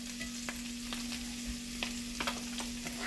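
Leftover steak fajitas sizzle in butter in a hot pan, a steady close hiss dotted with scattered sharp pops and crackles, with no talking.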